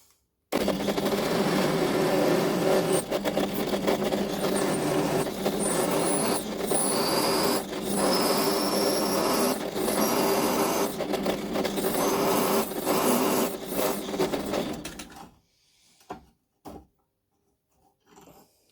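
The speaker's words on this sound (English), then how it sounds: "Next up, I'm gonna drill them." A steady, loud whirring drill runs continuously for about fifteen seconds, with slight grinding fluctuations, then stops, leaving a few faint clicks.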